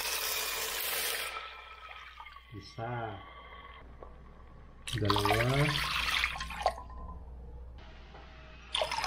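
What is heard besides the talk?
pouring cups of water into a pot for molo soup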